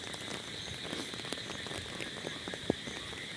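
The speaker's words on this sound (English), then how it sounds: "As you can see it's raining heavily since last night" Heavy rain pours steadily outdoors over flooded farm fields, a dense constant hiss with scattered louder drop splats, no voices.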